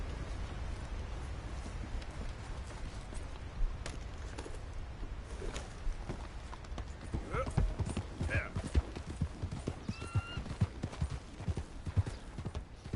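A horse clip-clops along in Red Dead Redemption 2, its hooves a soft, steady patter amid outdoor game ambience with a brief whinny-like call, while a person talks over it.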